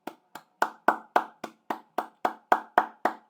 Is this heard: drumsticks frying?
no